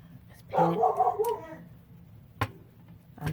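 Barks from Fergie, a pet dog indoors, come in a loud cluster near the start, followed by a couple of sharp isolated yaps, all fairly close in a quiet room.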